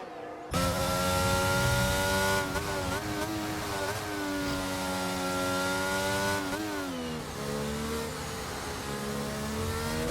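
Onboard engine of a sim race car in an HTR league race in France, starting its first lap: a steady, loud, high-revving drone with upshifts and pitch climbs throughout, heard alone.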